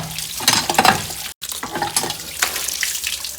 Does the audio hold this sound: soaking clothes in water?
yes